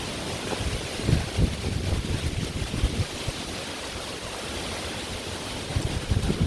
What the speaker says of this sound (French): Oh, il y a du vent.